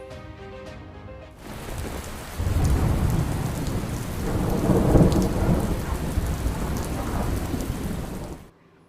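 Heavy rain pours down in a thunderstorm, with low rumbling thunder under a dense, steady roar of rainfall that swells in the middle and holds loud until it cuts off.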